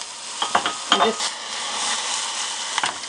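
Garlic sizzles in a pan as the start of a mushroom risotto, a steady close hiss broken by several quick stirring scrapes and taps of a utensil.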